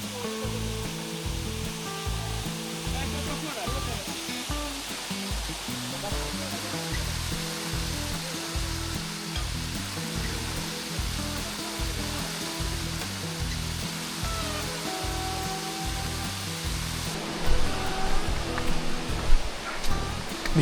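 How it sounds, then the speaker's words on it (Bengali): A waterfall at the end of a rocky forest trail on the Napittachhara trail gives a steady, dense, close rushing roar that fills the whole clip, swelling slightly louder near the end. "শেষমেশ সেখানে এসেই সেই কাঙ্ক্ষিত ঝর্ণাটি দেখতে পেলাম"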